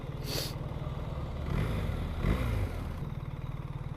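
Steady low rumble of a BMW R 1300 GS boxer twin motorcycle engine idling close by, with a brief swell in revs midway before settling back to an even, throbbing beat.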